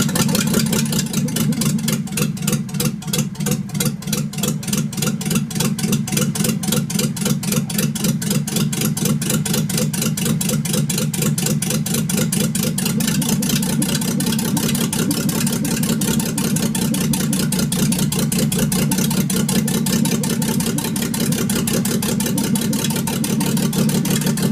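A Mercedes W124 car engine runs at a steady idle, a loud, even mechanical rumble that holds without a break for about twenty-five seconds, with no voices.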